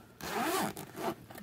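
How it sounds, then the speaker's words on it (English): A zipper on the front pocket of a weatherproof diaper bag is pulled in two quick, close, fairly loud strokes, a longer rasping pull followed by a shorter one, with no talking. "zipper in the front"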